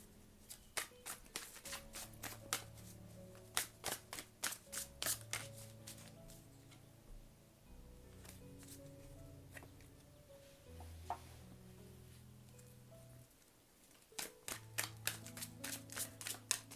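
Tarot cards being shuffled and laid out on a table, with repeated quick riffles and flicks in short bursts and soft slaps between them, close and fairly quiet, no speech.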